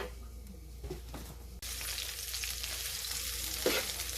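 Onion rings fry in a pan of hot oil, a dense steady sizzle that jumps louder partway through as the food is stirred or added, with light scraping and no talking.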